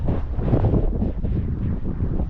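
Wind gusts across the exposed Mt Aorai ridge trail in Tahiti, producing a steady, loud, low buffeting roar against the microphone.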